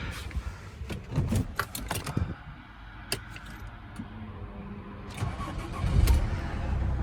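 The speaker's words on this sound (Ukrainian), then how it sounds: "Зараз заведемо даний автомобіль." A Volkswagen Crafter van's swapped-in Mercedes 2.7 OM647 diesel engine cranks and catches, settling into a rough idle with some clattering, heard close by.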